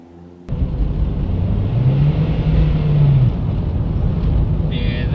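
Toyota Echo with a failing clutch driving, a steady loud engine rumble and drone starting abruptly after a brief quiet moment, with a rising and falling whine running through the middle.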